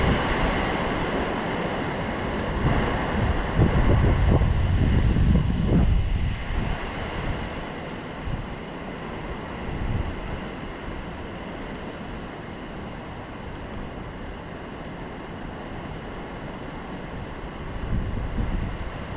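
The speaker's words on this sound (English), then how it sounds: "It is still super windy though." Strong wind gusting outdoors beside a 1974 O'Day Mariner 19 sailboat after rain, a constant roaring rush with heavy microphone buffeting that swells around the middle, with no voices.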